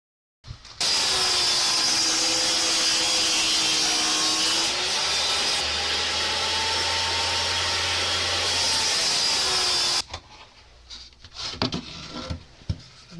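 A power saw fitted with a precision cutting jig whines loudly and steadily through wood for about ten seconds, its pitch dipping as the blade bites, then winds down into clattering and handling noises.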